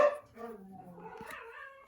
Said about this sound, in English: She will bark and bark and bark, and then Momo starts bark and bark and bark